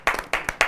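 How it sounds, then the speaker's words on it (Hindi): Audience clapping at a Hindi poetry event in three quick bursts, loud and close, with no voices. "पुनः एक बार तालियां बजा दीजिए।"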